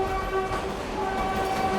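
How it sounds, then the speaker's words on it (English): A train roars into a subway station with a loud, continuous rumble and sustained tonal screech throughout. "The train roars into the station, scattering Knox's smoke to the subterranean winds."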